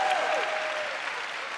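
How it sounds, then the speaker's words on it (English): Audience applause fills a speech hall in a dense, steady burst of clapping that holds at an even level, with a faint voice briefly audible near the start. "You should clap for me right there."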